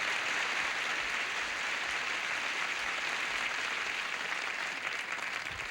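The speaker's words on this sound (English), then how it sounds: "a nice round of applause and a welcome to them" A 1980 studio audience on the game show Tic Tac Dough applauds in a steady, even wash of clapping, moderately loud and continuous with no voices over it.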